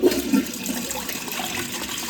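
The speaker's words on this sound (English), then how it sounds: "That's not a great flush, is it?" A toilet in need of repair flushes slowly and weakly, a steady close wash of running water lasting the whole stretch with no voices.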